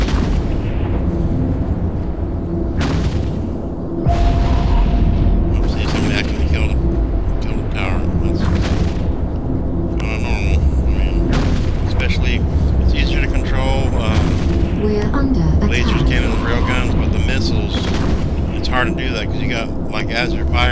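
Ship weapon volleys and explosions in the Eve Echoes space game, a steady run of sharp bursts and booms over a dense, continuous combat rumble, loud throughout.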